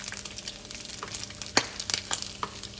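Crispy bacon fries quietly in a pan with a soft, continuous sizzle, broken by scattered sharp pops and crackles of spattering fat.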